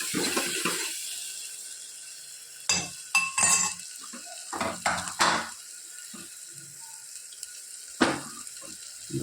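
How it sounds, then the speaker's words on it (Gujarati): Spices such as coriander-cumin powder, garam masala and turmeric are stirred in a pan, heard as scattered clinks and scrapes of a utensil against metal between quiet gaps, fairly close and moderately loud. "સરસ બધું મિક્સ કરી લઈએ."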